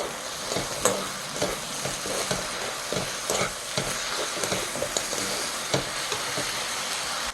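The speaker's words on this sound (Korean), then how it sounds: "양념장 끓죠? 그때 이제 같이 볶아줍니다" Shishito peppers and fish cake stir-fry in a boiling, spicy sauce for a Korean braise, giving a steady, close sizzle broken by frequent sharp spatula scrapes and clacks against the pan, with no voices.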